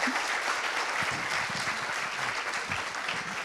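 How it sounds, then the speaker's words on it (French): Conference audience applauding, a dense steady clapping from a sizable crowd, moderately close, continuing for the whole stretch with no talk over it. "Applaudissez-le très très fort."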